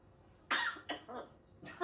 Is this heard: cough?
yes